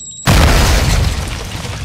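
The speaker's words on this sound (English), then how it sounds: "All hunters, devices set. Stand by to detonate." A planted bomb detonates in a Search and Destroy round of a video game: one sudden loud boom with a deep low-frequency burst, then a long rumbling tail that fades only slightly.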